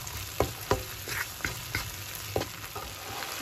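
Tomatoes and onions frying in a pan for egg curry, a steady sizzle broken by several sharp clinks and scrapes of a utensil stirring, close by with no voices.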